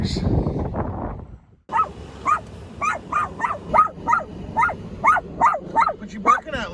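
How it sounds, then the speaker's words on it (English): A person talks briefly, then after a pause a dog gives a quick series of short, high yipping barks, near and fairly regular. "What you barking at, Lizzie?"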